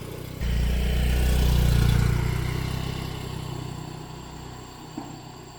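A motorbike engine starts up abruptly and runs loud and steady near the listener, rumbling for a few seconds before easing slightly, with a short knock near the end; no one speaks.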